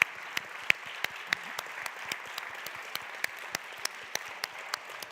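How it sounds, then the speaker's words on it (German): A bingo prize winner is applauded at a re:publica 2018 stage event, though the clapping comes through faint and distant as a thin crowd patter, with sharper individual claps standing out at a steady, sparse rhythm. "Einen riesen Applaus."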